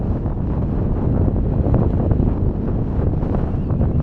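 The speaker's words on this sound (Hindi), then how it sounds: "और क्या ही खूबसूरत ठंडी हवा चल रही है।" Cold wind blows hard across the open high plateau at Sheosar Lake in Deosai National Park, Pakistan, a loud steady roaring rush buffeting the microphone throughout, with no voices.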